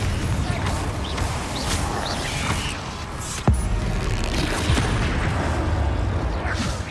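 Bombarda and Confringo spell blasts from Hogwarts Legacy produce a dense rumbling wash of explosive combat noise, with a sharp crack midway and a few swooshing bursts over a heavy low roar.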